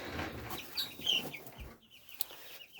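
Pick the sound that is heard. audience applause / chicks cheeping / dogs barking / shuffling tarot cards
chicks cheeping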